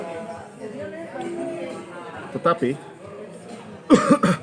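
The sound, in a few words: cough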